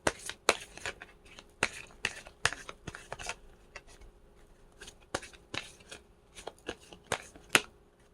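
Tarot cards being shuffled and drawn, a run of sharp crisp snaps and riffles recurring irregularly at close range, with quiet pauses between and no talk.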